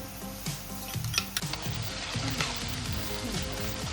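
Ginger garlic paste sizzles in a pan with golden-fried chopped onions and cumin for a whole masoor dal: a steady, close frying hiss broken by scraping stirs and light utensil clinks.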